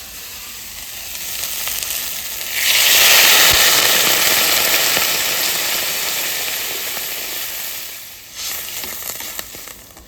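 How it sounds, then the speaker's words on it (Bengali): Taro curry sizzles loudly in a pan, and water poured in brings a sharp surge of hissing that slowly settles into a steady simmering sizzle, close and without talk. "কচু আমার কষানো হয়ে গেছে এবার আমি জল দিয়ে দেবো"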